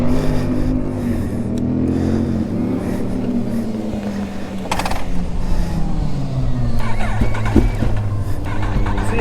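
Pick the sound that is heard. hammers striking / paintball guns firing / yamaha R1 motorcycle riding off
yamaha R1 motorcycle riding off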